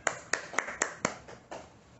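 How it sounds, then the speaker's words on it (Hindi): Participants on an online video call clapping after unmuting, a handful of sharp, separate claps spaced unevenly, compressed and fairly faint, fading after about a second and a half. "सब लोग अनम्यूट करके प्रीति जैन के लिए तालियां बजा दें हमारी तरफ से"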